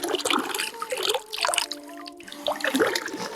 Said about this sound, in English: Made it to the first drinking fountain.